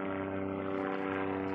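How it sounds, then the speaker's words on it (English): Steady low droning rotor-engine noise of a helicopter passing overhead, continuous and fairly loud throughout, with no talking. "Sorry about that helicopter."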